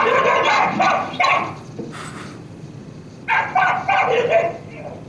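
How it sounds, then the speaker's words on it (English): Herding dogs bark repeatedly in bursts outdoors near a gate, loud and fairly close, with a short pause mid-way and a voice briefly audible among the barks. "very smart dogs, very good at what they do"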